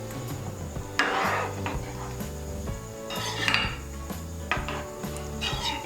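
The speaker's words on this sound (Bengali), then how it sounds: "জিরে বাটা আর আদা বাটাটাকে ভালো করে মিশিয়ে নেব ডালের সঙ্গে।" A utensil stirs and scrapes through lentil dal in a pot as cumin and ginger paste is mixed in, giving repeated rhythmic clinks and rubbing scrapes, close and fairly quiet.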